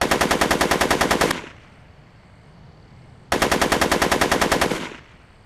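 Machine gun fire in a Back to the Future film scene: two loud, rapid sustained bursts of gunshots, each about a second and a half long, split by a short quiet gap.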